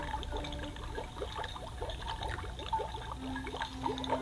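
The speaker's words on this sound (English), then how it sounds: "we filled the beaker with water, pour it into the chamber" Water pours from a beaker into the chamber of a Beast Lab Shark Beast Creator toy, a quiet, continuous trickle and splash with no talking.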